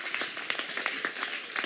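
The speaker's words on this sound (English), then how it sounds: "Let us clap for Jesus Christ." A church congregation claps in quick, uneven bursts during a healing service, several sharp claps layered over a soft background wash.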